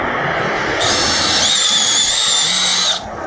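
A power drill whines at high speed, boring a hole in a wooden roof beam of a flat-roof shelter with a steady, loud, close-up drone that cuts off near the end.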